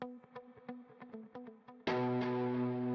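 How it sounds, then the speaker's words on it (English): A gritty, distorted synth or instrument sound from the SoundBox Opacity Pack on iPad, in B minor at 100 BPM: a run of short clipped stabs, then a sustained, loud, buzzing distorted tone rings on alone. "More of a gritty distortion in this one."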